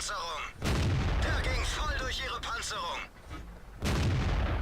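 Tank cannon shots in a World of Tanks battle with a KV-2 and E25 fighting a 112 and Super Pershing, loud booming blasts with a gap between them, a commentator talking over the gunfire.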